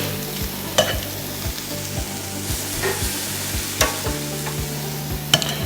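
Lamb tikka sizzles on a charcoal barbecue, a loud and steady close hiss broken by occasional sharp pops and crackles, with no voices over it.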